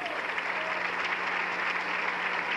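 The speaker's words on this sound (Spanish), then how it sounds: "Un aplauso para el Señor." A church congregation applauds together during a Spanish-language sermon, dense steady clapping filling the space for a couple of seconds without a break.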